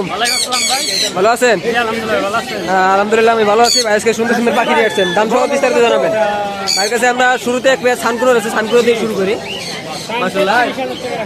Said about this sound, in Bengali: এখানে কিন্তু অনেক পাখি রয়েছে